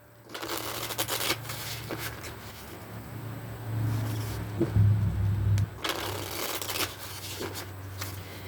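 A deck of affirmation cards being shuffled by hand in quick riffling bursts, close and fairly soft, with brief pauses between rounds.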